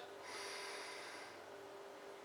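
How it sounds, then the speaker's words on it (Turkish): A single deep breath drawn in close to the microphone, a breathy, slightly snorting inhale lasting about a second over a quiet room hiss. "derin bir nefes alıyoruz"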